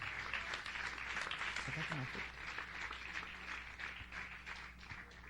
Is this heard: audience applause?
yes